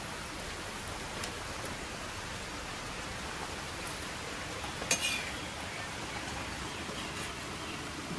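Rain falling steadily outdoors during bhaji frying, a soft even hiss of drops with a few sharper taps, fairly faint and without voices.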